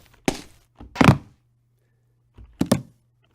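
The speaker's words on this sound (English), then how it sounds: "And we have a jump sound down here, which is 1 to 5, and it'll just randomize between them" Character jump sound effects triggered in a Unity game scene, randomized among five variants with varied pitch: three short, loud thunk-like hits spaced about a second apart, each with a quick attack and brief decay, alone.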